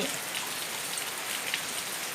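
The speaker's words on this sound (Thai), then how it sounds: "เช้าเช้ากับบรรยากาศฝนตกนะคะวันนี้" Steady morning rain falls at a garden house in Sattahip, Thailand, a dense, even hiss of drops on surfaces that holds constant and close throughout, with no voices.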